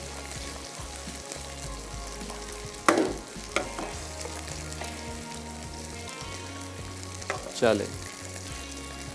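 Pasta, onion and tomato are stir-fried together in a pan with sauce, giving a steady sizzle with a few louder scraping stirs near the start and end.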